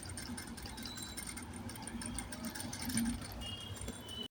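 A sewing machine stitches blouse cloth in a quiet room, its faint, continuous mechanical whir and rattle running steadily with a brief knock at the end.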